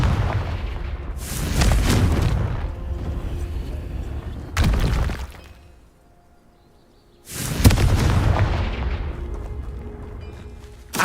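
Confringo fire-spell blasts in Hogwarts Legacy boom out as heavy, roaring explosions, one long burst, a sharp second hit, a near-silent pause, then another loud rumbling blast.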